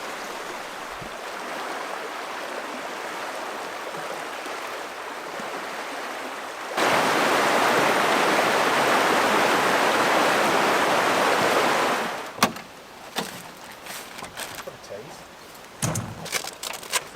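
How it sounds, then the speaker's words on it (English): Blackwood River running over rocks in the bush, a steady broadband rush that rises sharply louder midway, then drops to faint water as voices and light handling noises take over. "Sound of the river"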